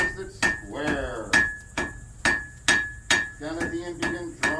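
A hammer repeatedly strikes hot metal on an anvil to flatten a forged nail, giving about ten loud, ringing metallic blows at a steady rhythm, close by, with brief talking between strikes.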